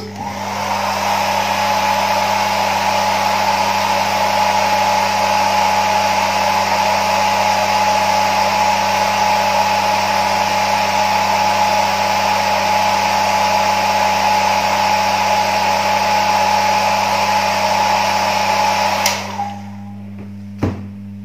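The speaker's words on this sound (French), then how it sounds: "Petit coup de sèche-cheveux." A hair dryer blows with a loud, steady whine and rush of air for about twenty seconds, then clicks off.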